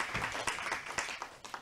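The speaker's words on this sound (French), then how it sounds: "je crois qu'on peut plus qu'applaudir notre François" A short burst of scattered clapping from a small audience, soft and uneven.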